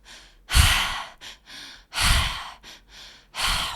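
Breath-work exercise: a sequence of deep, forceful breaths, long rushing exhales and shorter inhales alternating in a steady rhythm, very close and loud with no talk.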